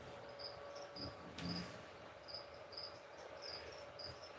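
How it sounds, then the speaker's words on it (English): Faint crickets, loose feeder insects indoors, chirping in short, repeated trills against a quiet background, with a soft thump partway through. "I shouldn't have crickets, but I fed the bearded dragon some, and now I hear them chirping everywhere."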